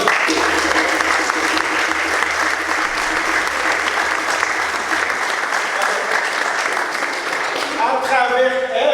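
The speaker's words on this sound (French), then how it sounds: "Vous les applaudir." Sustained applause from a congregation fills a church during a first communion celebration, a steady dense patter of many hands lasting several seconds before tapering off at the end.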